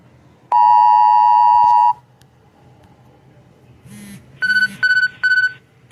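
Weather radar app alert for a severe thunderstorm watch: one long steady electronic tone, then a pause, then a brief buzz and a rapid series of short beeps, loud and clear in a quiet room.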